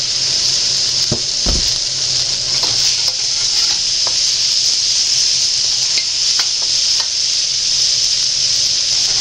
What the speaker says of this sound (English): we're going to add our cabbage, our onions and carrots, squash and zucchini